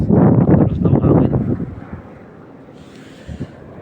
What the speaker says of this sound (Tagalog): So ang lamig. Tapos ng hangin.